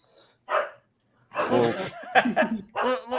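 Dog barking indoors, a few short sharp barks mixed in with people talking and laughing nearby.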